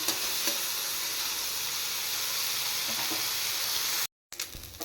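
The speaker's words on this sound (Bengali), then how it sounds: "চিংড়ি মাছ ভাজা হয়ে গেছে" Small shrimp fry in hot oil in a pan with a loud, continuous close-up sizzle and hiss, broken by a few faint stirring knocks. The sound drops out abruptly near the end, then briefly returns.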